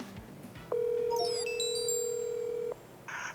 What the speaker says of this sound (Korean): 북한 5446 부대 요원 중에 한 명과 전화 연결을 해보겠습니다